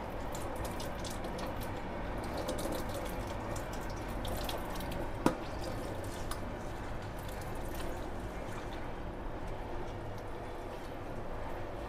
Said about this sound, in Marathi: अशा पद्धतीने भाजी चाळणीत काढून घ्यायचं आणि पाणी निथळून घ्यायचं आहे.